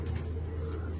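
Pigeons in a loft coo in low, soft, continuous murmurs that carry close through the short stretch with no voices.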